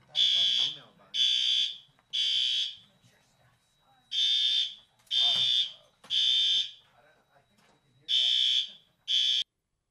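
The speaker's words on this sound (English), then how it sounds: "We were recessed for a fire alarm for about 5 minutes" Loud, repeated electronic blasts from a fire alarm fill a board meeting room, eight short pulses with gaps between them, while faint voices murmur underneath.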